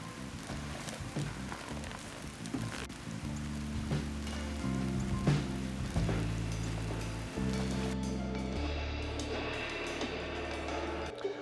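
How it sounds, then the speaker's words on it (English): Steady outdoor rain falls in a Florida setting, a dense hiss of drops pattering on surfaces, with scattered louder drips and faint low background tones underneath. "Sorry it was raining out there"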